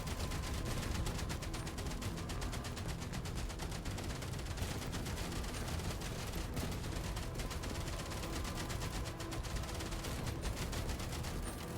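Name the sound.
Gatling gun firing in Outpost Infinity Siege video game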